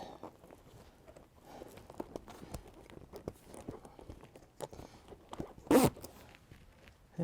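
Zipper on a Bestop Trektop NX soft top for a Jeep LJ being pulled in short, scattered rasps and fabric rustles, with one louder burst near the end, close and fairly quiet.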